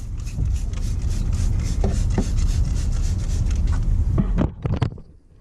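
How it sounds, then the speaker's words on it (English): A brush scrubs a dirty Toyota Sequoia surface coated with Super Clean degreaser, making steady close rasping strokes that end in a few short scrapes. "I'm gonna assume that this is gonna need a little scrubbing."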